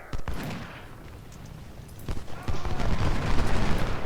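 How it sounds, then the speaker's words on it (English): Sniper fire crackles on a Civil War battlefield in the strategy game Ultimate General: Civil War, with a few sharp distant shots and then a rising, rumbling volley that grows louder toward the end. "Our snipers are opening up."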